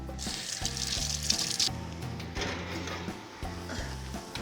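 Carne asada meat and garlic sizzling in a pan, a bright frying hiss that flares up when the meat goes in, with some low clunks and background noise and no talking.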